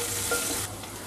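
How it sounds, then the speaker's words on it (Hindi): Onions and mint stirred while frying in a pan for moong dal khichdi, a dense, loud sizzle with a brief spoon scrape, alone and close. "प्याज हल्का सा ब्राउन हो जाए जब तक चला लीजिए"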